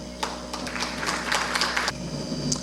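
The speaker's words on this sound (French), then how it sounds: "Merci de l'applaudir, s'il vous plaît." Audience applause at the launch of a health administration training and information centre, a steady wash of many hands clapping for a few seconds at moderate distance before dying away.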